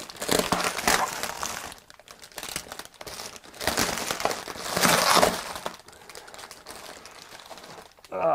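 Plastic bubble wrap crinkles and crackles close by as a small robot gift is unwrapped, bursts of rustling coming in uneven waves with brief quiet gaps.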